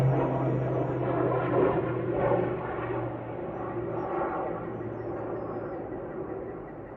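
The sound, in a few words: airplane flying overhead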